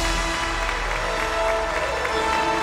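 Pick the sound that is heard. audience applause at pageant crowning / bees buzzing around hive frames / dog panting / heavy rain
audience applause at pageant crowning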